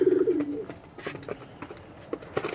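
Star Line pigeons cooing nearby: one low, tonal coo opens the moment, followed by scattered soft clicks and rustles from the birds.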